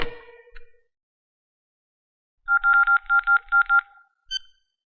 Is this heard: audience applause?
no